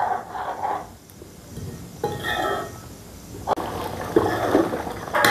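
Watery masala for egg curry is stirred in a pan, with wet sloshing, bubbling and light clinks of a spoon against the metal in irregular bursts, close and moderately loud.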